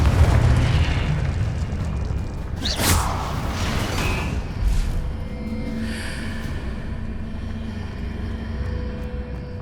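A Confringo spell explodes in the Hogwarts Legacy video game, a heavy booming blast with a sharp burst and whooshing debris that rolls into a sustained rumble, loud and close, with no talking.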